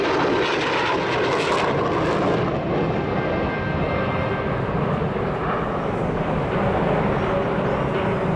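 A U.S. Navy Boeing F/A-18F Super Hornet jet performs at the Australian International Air Show 2009, a loud, sustained engine roar with a broad rushing hiss that swells and fades slightly, overlaid by an announcer's voice.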